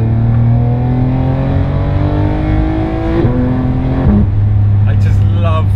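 A 2017 Porsche 991.2 GT3 engine revs hard from inside the car, its loud harmonic tone climbing steadily, then dropping sharply at two quick gear changes before rising again.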